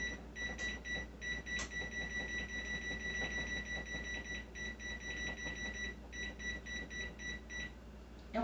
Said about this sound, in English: And then we're going to do our timer.